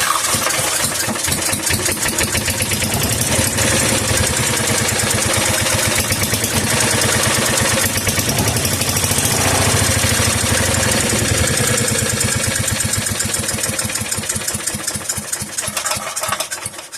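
An antique McCulloch generator engine, once in a flooded basement and weak from low compression, runs steadily with a close, loud, rapid chugging that continues without a break and tapers slightly at the end, with no talk.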